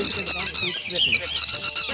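A hen's shrill, repeated squawking cries, high and harsh, fill the short moment with a few bursts, fairly close, with faint background noise.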